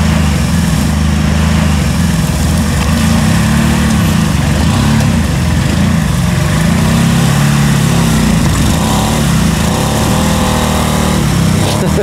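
A swamp vehicle driving over rough, uneven terrain, its engine a loud, steady, close drone that runs without pause, with no voices.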